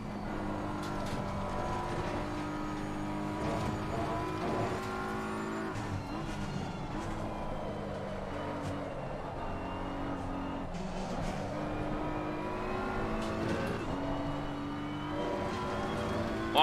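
A race car engine in Assetto Corsa Competizione drones steadily, its harmonic whine rising and falling through gear changes and throttle lifts, with occasional tire squeal. No talk is heard.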